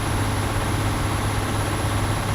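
A heavy MAN truck engine in Euro Truck Simulator 2 drones loudly and steadily uphill in a deep, constant roar with no break or voices.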